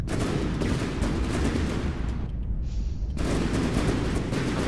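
Weapons firing in From the Depths: dense, continuous rapid gunfire and booming salvos, with a brief hollow lull before heavy fire resumes.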